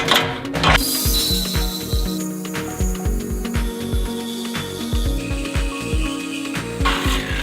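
A hacksaw-type blade with 14 teeth per inch cuts through a steel tire carrier, giving a steady run of harsh rhythmic strokes, each pass grinding and scraping loudly and close with no one talking.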